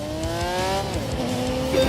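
In the Grand Tour video game, a car engine held at full throttle revs high and loud, its pitch climbing, then dipping at a gear change before climbing again, up close with a faint tire squeal.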